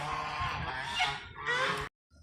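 A group of ducks honks in a dense, overlapping chorus of loud, close calls for nearly two seconds, then cuts to silence with a faint low sound at the end.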